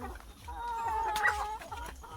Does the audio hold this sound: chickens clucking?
yes